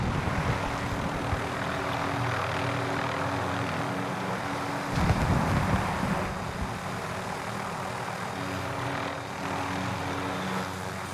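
An aircraft engine in a recon shooter game drones with a steady, loud hum close by, swelling briefly midway and then settling back to a continuous roar.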